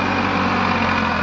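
Farmtrac 60 tractor engine labouring under a 20-year-old Shaktimaan 6-foot rotavator, a steady loud diesel drone with heavy low rumble and vibration, continuous and close, with no talking.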